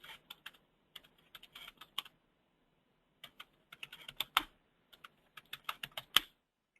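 Fingers typing on a computer keyboard to set a root password, quick bursts of close, crisp key clicks separated by short pauses, faint and alone with no talking.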